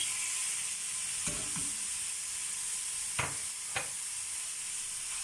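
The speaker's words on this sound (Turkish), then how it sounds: "Şimdi patatesimin kıymasını kavuracağım arkadaşlar." Minced meat for a béchamel potato bake fries quietly in a pan, a soft steady sizzle with a few sharp stirring clicks, close but faint, with no talking.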